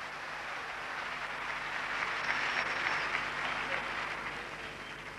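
Audience applause in a live comedy show in Paraguay, steady dense clapping from a large crowd that swells slightly midway, heard alone without talk.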